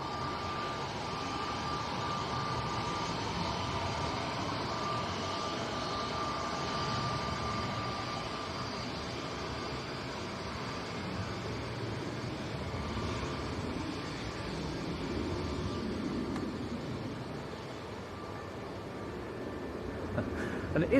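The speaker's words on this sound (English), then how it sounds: "And it is EasyJet to Sharm el Sheikh, an A320 Neo." An EasyJet Airbus A320neo departs Manchester Airport in crosswinds, heard as a steady, loud, broadband jet roar that holds evenly for about twenty seconds.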